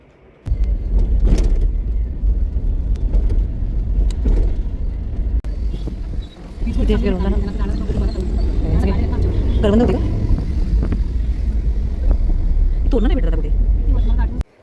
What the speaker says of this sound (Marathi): आता ही रिक्षामध्ये आम्ही बसलो आहे